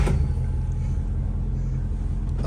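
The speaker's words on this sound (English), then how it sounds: "put my foot on the clutch pedal and start the engine" A Chrysler Town & Country convertible with fluid drive cranks and starts, its engine catching into a close, steady low rumble for a couple of seconds.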